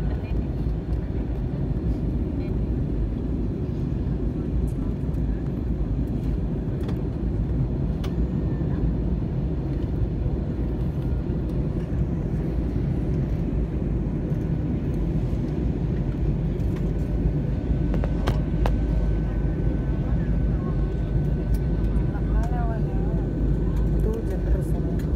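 AirAsia airliner landing on the Kuala Lumpur to Medan route, heard from inside the cabin as a loud continuous low engine and airflow roar that holds steady throughout.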